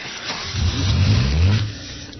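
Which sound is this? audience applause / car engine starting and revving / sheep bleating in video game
car engine starting and revving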